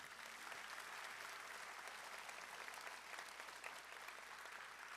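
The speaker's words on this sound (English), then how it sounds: "Please give our Lifer students a big round of applause." A school class night crowd gives a big round of applause for graduating lifer students, heard as a broad, even, continuous clatter of many hands, somewhat distant and steady across the whole stretch.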